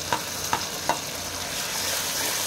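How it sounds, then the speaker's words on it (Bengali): Ginger-garlic paste sautés with onion and tomato in a pan, a soft continuous sizzle broken by three quick spoon scrapes early on, with no talking. "আদা রসুন বাটা একটুখানি সাঁতলে নেব"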